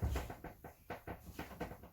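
A pet dog pants in quick rhythmic breaths close by, with soft whimpering mixed in between the puffs.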